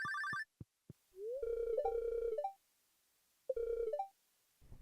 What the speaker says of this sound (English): I got a phone call from Lewis